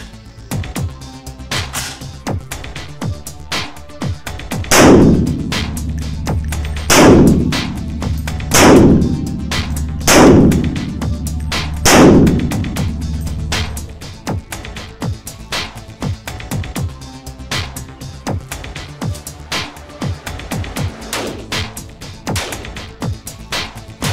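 ERE Systems SG 542 Elite rifle chambered in 7.62 mm NATO with a 475 mm barrel, fired at an outdoor range: several heavy, evenly spaced shots with echoing tails among fainter distant gunfire.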